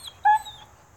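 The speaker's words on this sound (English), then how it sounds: "you may hear some barking in the background" A dog lets out a single short, high yip or whimper in the background of a quiet room, faint and brief.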